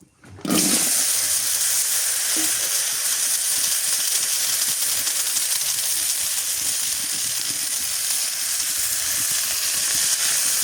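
Loud, steady sizzle of silver carp frying in hot oil in a pan for a Bengali fish curry with pointed gourd, starting abruptly and hissing continuously up close without any talk.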